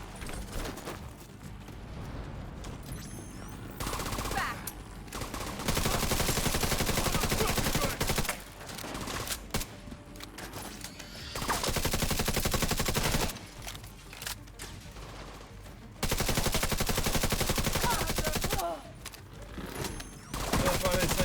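Deployed turret in The Division 2 firing long bursts of rapid automatic gunfire, loud and close, with short pauses between volleys.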